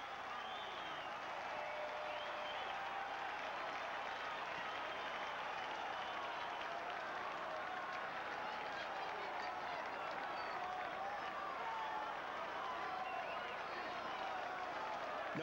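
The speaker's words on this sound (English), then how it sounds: "The crowd rising to the occasion again here at Fenway Park with Nomar Garciaparra stepping in." Baseball crowd at Fenway Park applauding in the ninth inning as Nomar Garciaparra steps in, a steady wash of distant clapping and cheering that holds level throughout, with a commentator's voice over it.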